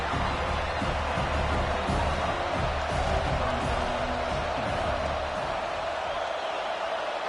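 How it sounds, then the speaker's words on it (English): A dense, steady roar of a large stadium crowd at a college football playoff game in a video game, a constant wash of noise with faint thumps underneath and no distinct voices. "listen to this crowd noise. This stadium is vibrating."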